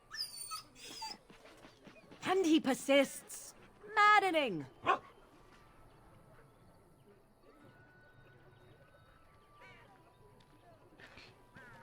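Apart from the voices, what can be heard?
dog whimpering and barking in a video game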